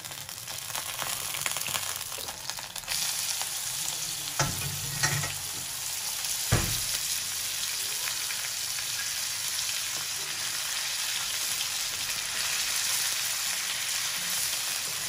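Steady loud sizzling of hand-minced beef frying in a pan, with a couple of stirring scrapes early on, continuous and close throughout.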